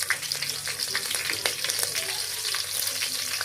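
Green chillies sauté in a pan with a constant crackling sizzle, close and fairly loud, broken by irregular stirring scrapes and clicks, with no talking.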